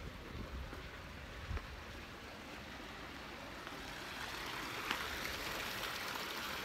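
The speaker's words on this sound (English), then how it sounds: "Look at this beautiful creek here." A creek runs over lava rock in a steady, broadband rushing wash, heard close and continuous with a slight swell toward the end and no talking.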